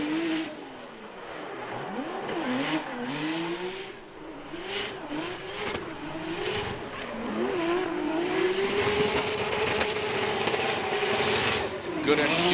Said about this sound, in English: we'll lay out and listen to this Mark V Toyota Supra